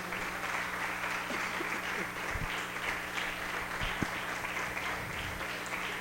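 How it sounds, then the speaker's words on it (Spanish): Church congregation claps in steady applause of praise to the Lord, a dense, continuous wash of clapping with a low hum underneath and faint voices mixed in. "¿Quieren darle al Señor un aplauso de alabanza, hermanos?"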